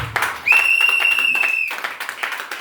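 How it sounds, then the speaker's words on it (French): A church congregation at an evangelical service applauds and cheers in a dense burst of clapping, with a sustained shrill whistle held through the middle and voices mixed in. "Acclamons Jésus très très fort."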